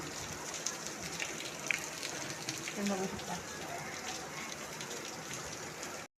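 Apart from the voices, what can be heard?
light rain falling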